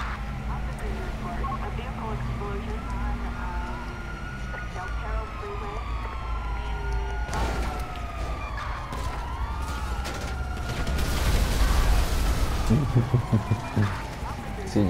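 Police car sirens in GTA V wail in overlapping rising and falling sweeps amid traffic noise and gunfire bursts, with a voice talking over the chase.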